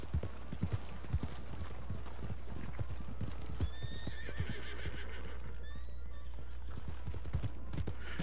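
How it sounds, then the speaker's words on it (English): Horse hooves clip-clop in a steady walking rhythm in Red Dead Redemption 2, close and clear, with a couple of whinnies and a constant low background hum beneath. "Look at that horse."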